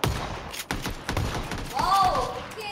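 Gunshots crack in a battle royale video game as several sharp reports and thuds land in quick succession, with a voice talking over them and a rising whistle-like tone near the end.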